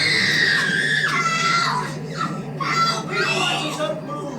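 A woman in a Doctor Who episode screams shrilly and at length, her high-pitched cries rising and falling in loud bursts over a low steady hum.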